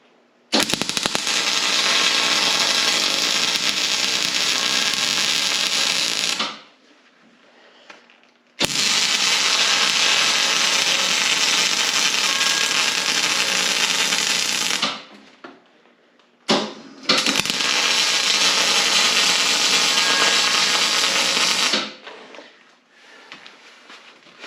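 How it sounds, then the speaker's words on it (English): Arc welding fills beveled turning cams on a homemade stall jack for shaping horseshoes: three long, loud, steady crackling bursts of several seconds each, separated by short quiet pauses. "I beveled this really good so I can fill that all in really hot with weld"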